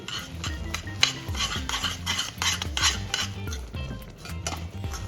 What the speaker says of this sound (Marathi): हा भाजलेला रवा गरम पाकामध्येच आपण टाकून व्यवस्थित सर्व मिश्रण मिक्स करून